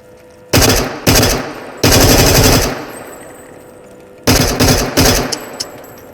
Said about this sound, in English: This is the OC-14 Groza. It is a Russian bullpup assault rifle